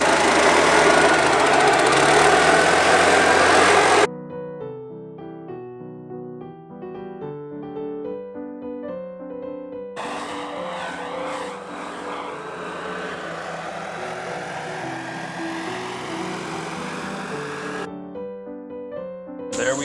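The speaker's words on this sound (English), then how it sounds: "I'm going to use the blower real quick" A leaf blower clearing the edges of a new mulched garden roars loud and steady at close range for the first few seconds, then cuts off and gives way to a quieter tonal hum.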